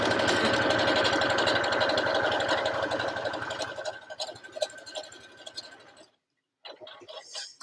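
A sewing machine stitching fast at a longer stitch length, whirring with a loud rapid needle rhythm that slows and fades, stops briefly, then gives a few short bursts near the end.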